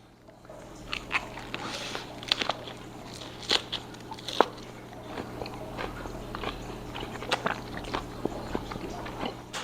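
Crisp bites and crunchy chewing of Asian leaf cabbage dipped in barbecue sauce, a steady run of close, moist crunches and crackles with no talk.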